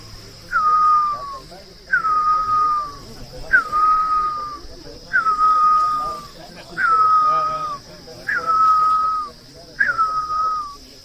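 A person imitates a great barbet's call, repeating a loud whistled, descending hoot-like note seven times at an even pace, with short pauses between calls.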